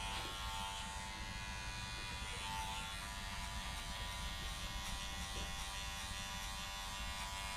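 An electric hair clipper fitted with a 1.5 guard and its lever open blends a skin fade, giving a steady, close, continuous buzz throughout.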